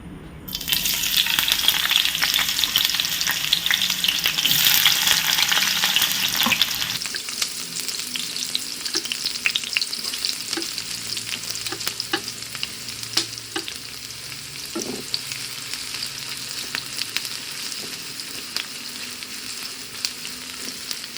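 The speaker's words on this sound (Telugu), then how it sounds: "బిర్యానీలోకి ఆనియన్స్ ఫ్రై చేసుకోవడం కోసం ఆయిల్ వేసుకొని ఫ్రై చేసుకుందాం" Onions fry in hot oil for biryani, giving a loud, dense, continuous sizzle with stirring. It is fiercest for the first seven seconds, then settles to a steadier, lower crackle.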